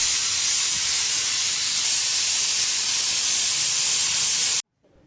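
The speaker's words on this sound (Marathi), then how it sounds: "इथे कुकर बंद करून घेते आणि याच्या शिट्ट्या करून घेते" A pressure cooker cooking chicken vents a loud, steady, close hiss of steam that holds without a break, then cuts off abruptly near the end.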